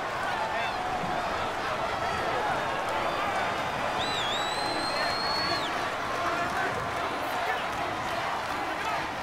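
A steady wall of stadium crowd roar and babble fills a Madden NFL 19 rivalry game between the San Francisco 49ers and New Orleans Saints, with a whistle cutting through midway.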